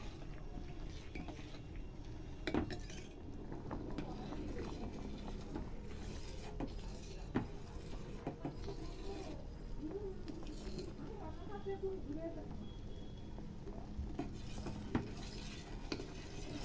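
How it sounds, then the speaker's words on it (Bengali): Chosi pitha boiling in milk in a pot, stirred steadily with a utensil that scrapes and clinks faintly against the pot over a soft bubbling simmer, quiet and close. "এবার কিন্তু বারবার নাড়তে হবে যেন নিচে না ধরে যায়।"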